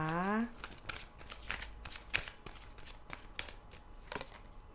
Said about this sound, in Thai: แม่มดจะเปิดไพ่นะคะ